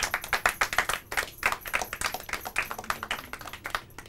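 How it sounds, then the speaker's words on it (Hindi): A small audience claps at a Hindi quiz show, a short burst of fairly sparse, sharp hand claps in an uneven rhythm, close and clear with no talking. "तालियां।"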